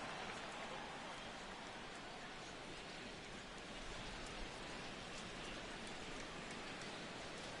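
Heavy rain pouring steadily in the MLB The Show 16 baseball video game, a dense, even hiss of downpour that holds without pause for the whole stretch, with no talk.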